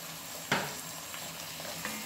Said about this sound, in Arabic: نخلي الطماط تاعنا تعاود تقلى شوية